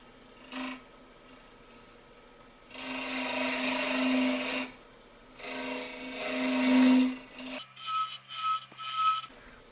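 A woodturning gouge cuts a hollow form from a crotch piece of wood on a lathe, giving loud rasping bursts of cutting a few seconds long, separated by a quieter motor hum and ending in short choppy scrapes.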